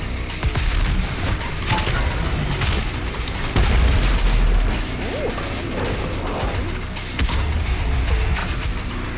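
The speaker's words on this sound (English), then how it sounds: "I'm definitely wasting rockets here" Rocket blasts in the video game DOOM Eternal boom repeatedly over dense, noisy combat audio, with heavy low thuds and crashes layered in a continuous chaotic mix.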